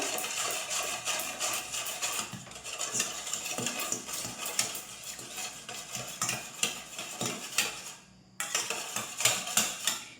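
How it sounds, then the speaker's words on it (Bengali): Naan dough ingredients being stirred together in a bowl of yogurt with warm water, soft clinking and scraping strokes in an irregular rhythm, close and fairly quiet, with a short pause near the end. "দইয়ের যে বাটিটা ওই বাটিরই তো মোটামুটি সমস্ত উপকরণ দিয়ে এবার আমি সুন্দর করে মিশিয়ে নেব"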